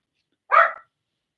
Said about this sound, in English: Now the dogs are barking, going crazy.